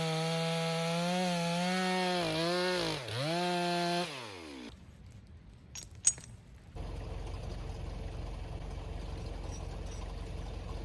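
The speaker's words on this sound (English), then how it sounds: "Chainsaw's cutting a little bit slow." A chainsaw cutting slowly through a log makes a loud, buzzing engine whine that dips in pitch as it bogs, then cuts off, leaving a brief clatter and a quieter, steady rumbling noise.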